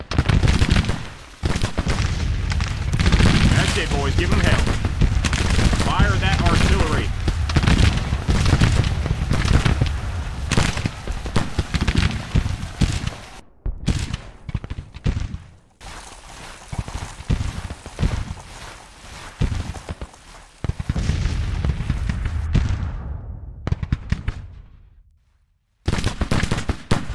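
Dense musket volleys and booming artillery from the Grand Tactician American Civil War game at the Battle of Antietam, crackling continuously and loud at first, then thinning into scattered shots with brief silences.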